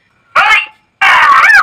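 Two loud, harsh screaming blasts from an animal-deterrent horn, a short burst followed by a longer wailing one after a brief pause.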